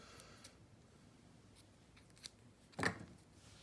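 Scissors snip through beading thread in a quiet room, a few faint small clicks followed by one crisp, close cut near the end, with no talking.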